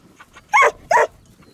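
A black guard dog on a farm in Satu Mare gives two loud, close barks about a third of a second apart, with quiet background between them.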